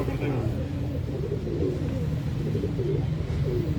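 Pigeons coo in a low, steady murmur with a constant rumble beneath, close by and continuous, while a voice talks over the cooing.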